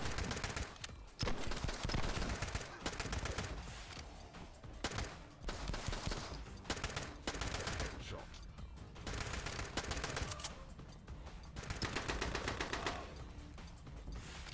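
Gunfire in the video game The Club, set in prison cells: rapid, dense bursts of automatic shots and loud single reports in quick succession, nearly continuous with short pauses, with a voice talking at times.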